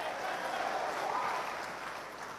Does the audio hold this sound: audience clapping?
yes